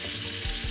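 Steak searing in a very hot pan gives a steady broadband sizzle, with a couple of low bumps as the meat shifts. The burst is short and no one speaks over it.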